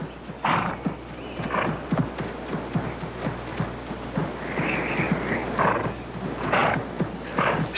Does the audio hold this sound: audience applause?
no